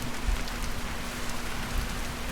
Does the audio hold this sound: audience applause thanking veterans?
no